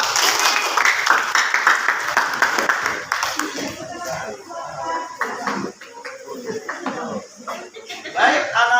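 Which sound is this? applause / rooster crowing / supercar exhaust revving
applause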